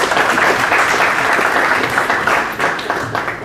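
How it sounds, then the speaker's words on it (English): An audience at a business school startup conclave bursts into loud, sustained applause to welcome a speaker on stage, the clapping holding strong before gradually thinning out toward the end. "let us welcome him with a round of applause"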